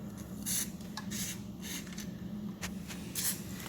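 Spray cleaner hisses out in short bursts onto an electric RC car's shocks and springs at close range, with several quick sprays in an uneven rhythm over a low background hum.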